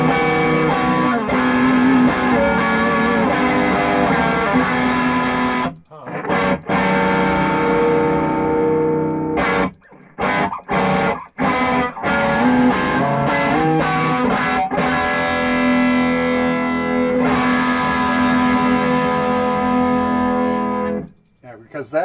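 A 1979 Marshall JMP 2203 MKII guitar amp blares loud distorted chords, strummed and held with short breaks between, the lower strings growling under a thick saturated tone throughout.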